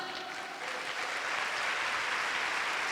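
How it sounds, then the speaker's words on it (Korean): A congregation at a pastors' seminar in Guadalupe, Mexico breaks into loud, sustained applause, a dense wash of clapping that holds steady and swells slightly across the whole stretch. "Entender un aplauso fuerte para el Señor."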